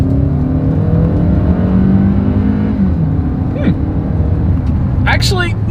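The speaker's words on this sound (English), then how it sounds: "let's go ahead and do a quick little acceleration test here in the Santa Fe" The 2.4 liter naturally aspirated four-cylinder of a 2020 Hyundai Santa Fe accelerating, a steady droning engine hum with rising tones heard from inside the cabin, with brief sharp sounds near the end.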